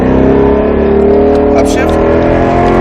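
A Roush Mustang RS3's engine roars loud and steady under hard throttle on the Speed Vegas track, a sustained droning growl heard from inside the car, with a voice speaking over it.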